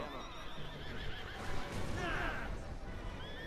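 Horse neighing in the video game Assassin's Creed Syndicate, a loud, wavering whinny rising midway through, over clattering hooves and street noise, with faint talking beneath.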